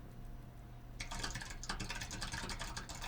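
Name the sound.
keyboard typing sound effect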